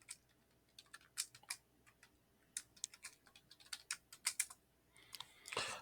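Someone typing a password on a computer keyboard during an ESXi install, quiet crisp key clicks in irregular bursts with brief pauses, ending in a short louder rustle.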